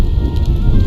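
Rain falls in the Tavern Master video game as a loud, dense, continuous hiss with a low rumbling undertone, brief and steady throughout.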